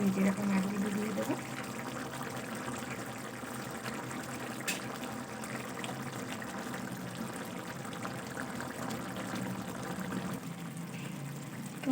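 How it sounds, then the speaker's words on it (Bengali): Fried rui fish pieces going into a pot of boiling curry gravy with cabbage, potato, tomato and peas, giving a steady close bubbling and liquid wash with no talk. "এবার আমি একে একে ভেজে রাখা মাছগুলো দিয়ে দেবো।"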